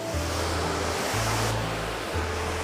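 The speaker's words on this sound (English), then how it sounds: "Finally here at the Ta Puong waterfall." Ta Puong waterfall in the forested mountains of Central Vietnam gives off a steady, broad rushing roar of falling water, continuous and fairly loud, with a low rumble underneath and no voices.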